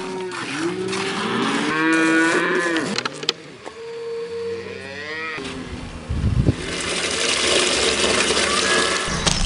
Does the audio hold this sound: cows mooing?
yes